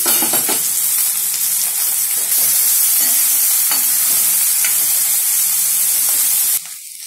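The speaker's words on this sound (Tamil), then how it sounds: "இப்போ இந்த வெங்காயம் பச்சை மிளகாய் வெங்காயத்தை போடுறேன். இது நல்லா வதங்கணுங்க." Onions and green chillies fry in a hot pan, giving a strong steady sizzle with a few stirring scrapes. The hiss cuts off sharply near the end.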